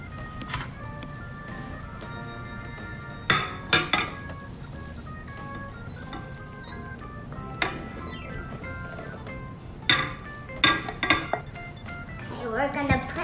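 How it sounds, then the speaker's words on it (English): Sugar cookie dough being mixed in a bowl as dry ingredients are stirred into wet ones, giving intermittent clinks and knocks of a utensil against the bowl over a steady low background with faint tonal ringing. "We're gonna add the dry ingredients. Mix it up with the wet ingredients."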